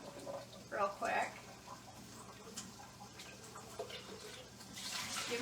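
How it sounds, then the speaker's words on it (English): Running tap water rinses out a custard container at a kitchen sink, a steady splashing stream with a few louder bursts, and a faint voice murmurs in the background. "let me rinse out my custard real quick"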